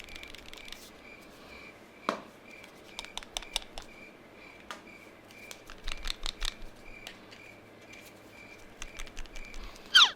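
Urbanista true wireless earbuds shaken inside their plastic charging case give off a run of small, dry clicks and rattles, sparse at first and then quicker bursts, close and quiet with no talking.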